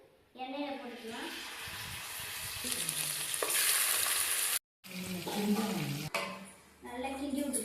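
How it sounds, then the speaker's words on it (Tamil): Marinated chicken drops into hot oil with a loud, continuous sizzle and frying crackle that fills the whole stretch, briefly cutting out before resuming, with stirring sounds and a voice speaking over it. "இப்போ நம்ம மேரினேட் பண்ண சிக்கன் எடுத்து எண்ணெயில போட்டுக்கலாம்."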